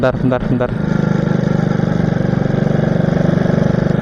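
A small, ordinary motorcycle idles on a road with a steady, loud, close, rapidly pulsing low putter. A voice speaks briefly at the start.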